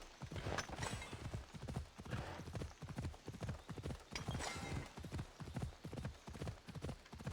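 Horse hooves clip-clop at a steady galloping rhythm in Assassin's Creed Odyssey, loud and close throughout with busy game sound around them.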